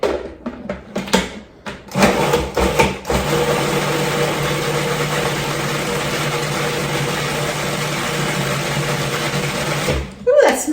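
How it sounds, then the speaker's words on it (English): A kitchen blender purees white chicken chili ingredients in a steady loud whir lasting several seconds, with a few brief clatters and voices just before it starts and as it stops. "And I'm going to puree."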